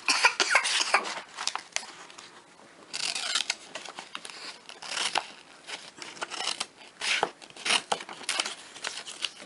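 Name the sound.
scissors cutting a paper page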